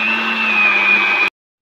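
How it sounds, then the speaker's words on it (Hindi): A kitchen blender grinds spinach with a splash of milk into a thick paste, its steady high motor whine running loud and even before cutting off abruptly. "अब मैं पालक पीस लूँगी, मैंने मसाला पीस लिया है और इसमें भी मैं थोड़ा सा दूध डालूँगी और हम इसे पीस लेंगे"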